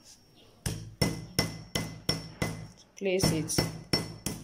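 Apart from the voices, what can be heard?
hammering a rivet down on an iron block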